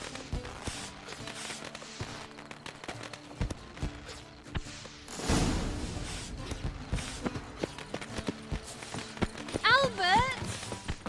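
Horse hooves clip-clopping in The Witcher 3: Wild Hunt, a run of close, irregular hoof knocks under game dialogue, with a brief louder rush midway.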